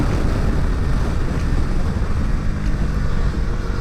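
Bajaj Dominar 400 motorcycle engine downshifting while riding, a steady loud rumble mixed with wind rush from close range, with no talking.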